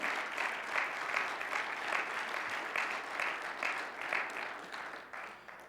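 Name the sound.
congregation applause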